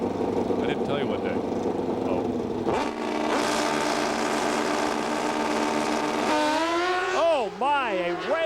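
A Pro Stock drag racing motorcycle launches in an NHRA semifinal at Brainerd, Minnesota, in 1995: loud, close engine roar with revving that climbs into wavering pitch sweeps near the end, while an announcer talks over it.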